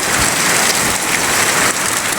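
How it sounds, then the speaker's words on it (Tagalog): Heavy rain pours outside a home with goods displayed out front, a dense, loud, continuous hiss with no talking. "Lakas ng ulan."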